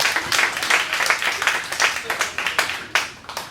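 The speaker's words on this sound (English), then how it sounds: "It's the first time that I ever got an applause." Audience applause at a stand-up comedy show, a dense continuous wash of many hands clapping at moderate loudness for a few seconds.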